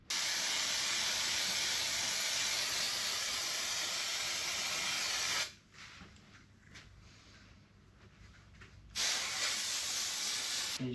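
Steady, loud hiss of aerosol spray adhesive being sprayed onto carpet for a camper van window, stopping for a few seconds midway, then resuming.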